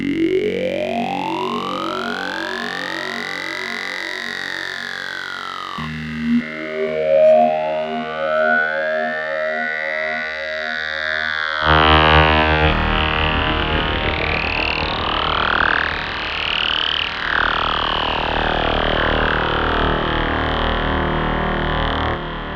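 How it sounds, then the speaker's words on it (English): A software synthesizer run through formant filters produces a throaty, vocal-like timbre. It holds a continuous distorted tone whose sweeping, gliding resonances rise and fall like a voice shaping vowels, sometimes like a siren. It sounds steady and full throughout, with no talk. "These are those vocal kind of sounds, and they change a lot of the sound profile we are building into that more throaty sound."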